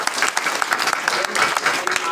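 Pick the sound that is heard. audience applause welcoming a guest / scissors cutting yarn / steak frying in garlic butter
audience applause welcoming a guest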